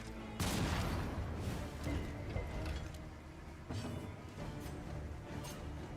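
Mortar fire in Darkest Dungeon II: a loud, dense burst of booming blasts and crashing impacts that keeps rolling, with a second heavy hit partway through and no talking.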